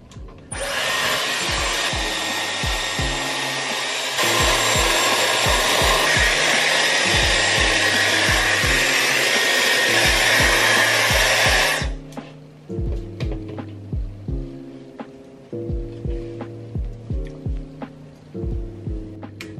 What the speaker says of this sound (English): So I just finished blow drying my hair